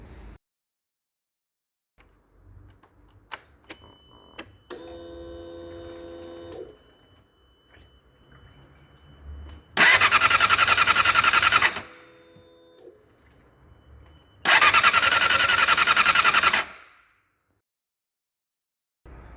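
A Yamaha R6 motorcycle's newly replaced fuel pump primes with a steady electric buzz. Two loud, rushing bursts of about two seconds each follow, each ending in silence.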